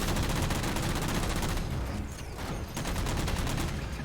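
Dense automatic gunfire in the Halo 4 video game, with rapid rhythmic bursts of loud shots that continue nearly the whole time and ease briefly in the middle.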